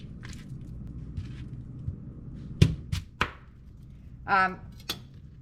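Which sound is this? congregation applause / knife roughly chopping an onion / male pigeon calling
knife roughly chopping an onion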